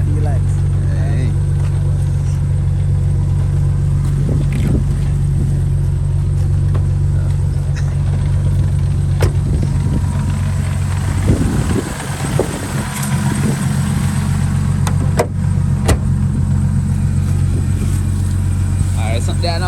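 A car with a big turbocharged engine rumbles steadily from inside while driving, a continuous low engine drone throughout with scattered knocks and bumps, and someone talking over it now and then.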